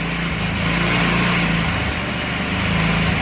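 A Tao Tao 150cc ATV engine idles steadily and continuously, a buzzing small-engine drone with a slightly high idle as its auto choke disengages, close and alone without talk.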